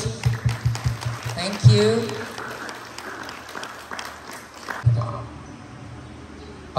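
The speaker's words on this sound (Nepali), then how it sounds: "Please give a big round of applause." Audience at an international yoga conference in Thailand applauds in a burst of rhythmic clapping that fades, then swells again briefly; a voice speaks over the clapping.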